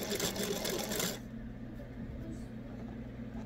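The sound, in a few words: sewing machine stitching a hanging towel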